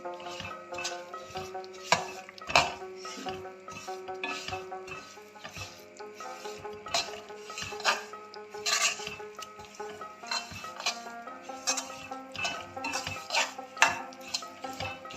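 Semolina (suji) being cooked in a pan, stirred continuously with a utensil that scrapes and clinks against the metal in irregular rhythm, close and moderately loud with no talking.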